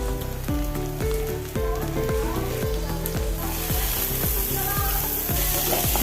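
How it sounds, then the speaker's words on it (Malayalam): Cabbage, carrot and tomato frying in a pan for ragi upma, giving a steady loud sizzle throughout with rhythmic stirring and scraping and tonal clinks repeating about twice a second. "ഇനി ബാക്കിയുള്ള കേവേജ് ക്യാരറ്റ് തക്കാളിയും കൂടി ഇട്ട് കൊടുക്കാം"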